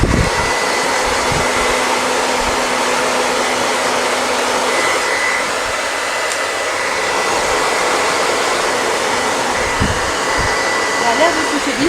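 A Babyliss hair dryer blows steadily at close range to dry a phone, a continuous loud whooshing whir that holds throughout with only slight dips.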